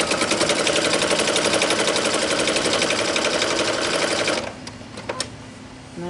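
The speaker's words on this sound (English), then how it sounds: "I'm just going to keep going and keep sewing." A sewing machine stitches quilt fabric for a jelly roll rug in a fast, loud, continuous run of needle strokes, then stops abruptly, leaving a few faint clicks.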